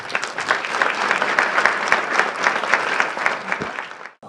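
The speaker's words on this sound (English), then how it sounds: "A round of applause for Amy Owen." Room full of people applauding at a community awards ceremony in County Hall, West Bridgford: dense, sustained clapping fills nearly the whole stretch, then cuts off abruptly right at the end.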